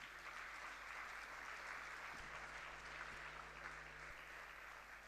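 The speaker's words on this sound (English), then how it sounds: "So please give her a resounding round of applause." Steady, full applause from a conference audience at a closing ceremony fills the whole stretch as an even wash of clapping, with no voices standing out.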